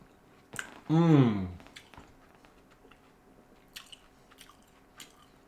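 Fresh fruit being bitten and chewed up close: one loud, juicy crunching bite, followed by quieter, scattered wet chewing clicks and squishes.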